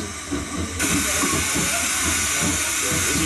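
A steam locomotive at the Bellingham Railway Museum, throttle at full steam, runs with a loud broadband steam hiss that swells after a moment over a low rhythmic chuffing rumble, close by, with someone talking faintly in the background.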